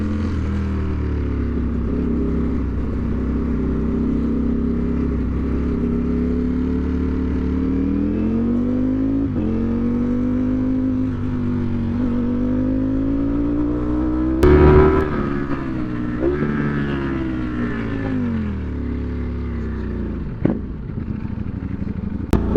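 A Ducati Streetfighter V4 rides through Bengaluru city streets after a service. The engine drones loudly and steadily with repeated rises and falls in revs, and brief sharp clicks and shifts partway through.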